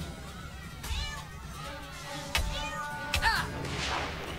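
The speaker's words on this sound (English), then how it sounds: "I didn't mean to hit the cat." A cartoon cat in South Park: The Stick of Truth lets out a few wailing yowls after being struck, with sharp hits and battle noise around it.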